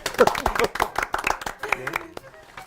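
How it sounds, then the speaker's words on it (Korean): Audience at a career mentoring broadcast clapping in a brisk burst of sharp, close claps that thin out toward the end, with voices talking over them. "네, 박수."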